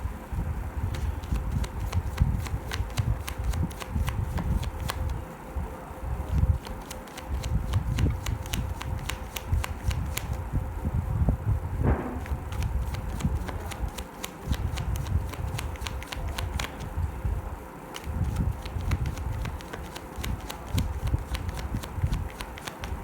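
Tarot cards shuffled by hand close up, a continuous ruffling and riffling patter with soft slaps and brief pauses, running steadily throughout.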